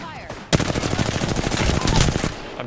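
Automatic gunfire in a video game: a sharp onset of rapid, dense shots that rattles on continuously for about two seconds, loud and close, then cuts off.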